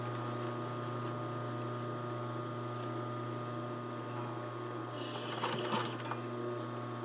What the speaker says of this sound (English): put the presser foot down right on the edge again.